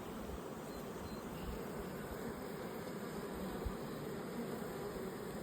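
Honeybees buzz steadily during a hive inspection, a dense, continuous hum from many bees close by with no pauses, heard alone without voices.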